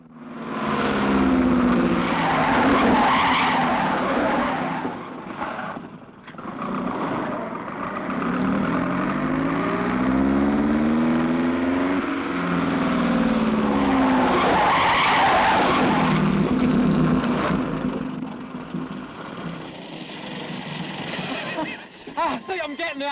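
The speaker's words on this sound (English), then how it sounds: "Always turn into the skid and then just touch your brakes." Car skidding with loud, wavering tire squeals that sweep up and down across most of the stretch, close and sustained, with brief dips and a renewed squeal near the end.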